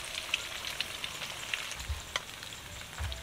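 Lemongrass sausage and rice cakes frying in hot oil, a continuous crackling sizzle with scattered sharp pops and a few soft low bumps, close and without talk.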